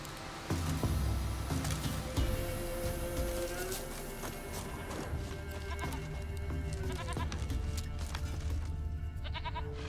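Goat bleats from The Witcher 3: Wild Hunt, repeated calls over a busy game soundscape of music, footsteps and ambient noise, with a voice talking in between.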